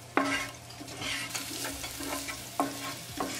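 Ginger and garlic stirred into hot olive oil with cumin seeds, crackling steadily close by with sharp utensil scrapes against the pan at the start and again near the end.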